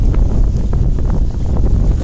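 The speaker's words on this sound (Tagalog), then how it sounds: "Mahangin." Wind buffets the microphone at a fishing spot, a loud, constant low rumbling roar with no breaks across the whole moment.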